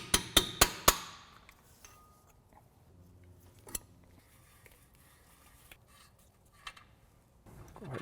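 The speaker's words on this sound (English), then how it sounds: "Go ahead and pull the rotor off." Four sharp metallic knocks come in quick succession as a brake rotor is worked loose from the hub of a Chevy Blazer/Tahoe truck, followed by quieter scrapes and a few isolated clanks.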